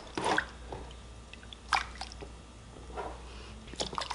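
Dyed silk roving being rinsed in water makes soft, close squishing and dripping sounds, a few scattered wet splashes over a quiet background.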